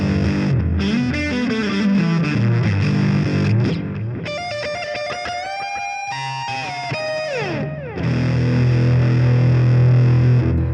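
Electric guitar played through a fuzz setting on a Sonicake Matribox II Pro floorboard multi-effects processor, loud and saturated, with chugging chords, a stretch of sustained bending lead notes, then heavy chords returning.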